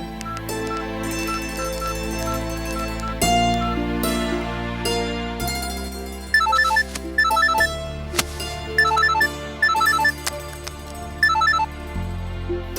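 Telephone ringing with a repeated electronic ringtone in a Tamil television serial, several bursts of ringing over background music.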